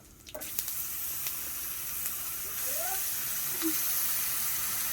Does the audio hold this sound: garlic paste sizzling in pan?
yes